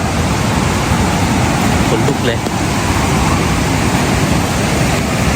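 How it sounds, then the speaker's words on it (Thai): Kong Kaew waterfall at Khao Yai in the rain, a loud, dense, continuous roar of rushing water filling the whole clip, with a brief spoken exclamation over it. "อีกฝั่งหนึ่งของน้ำตกกองแก้ว"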